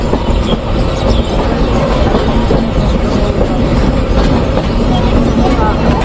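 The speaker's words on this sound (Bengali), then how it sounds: "নির্ধারিত সময়তে দশ মিনিট বিলম্বে প্রবেশ করছে সাবদারপুর রেলওয়ে স্টেশনে" The Kapotakkho Express rolls into Sabdarpur railway station, a loud, steady rumble of wheels and carriages with rattling clatter heard close from on board, a voice faintly under the din.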